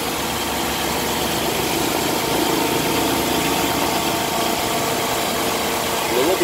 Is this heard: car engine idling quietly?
yes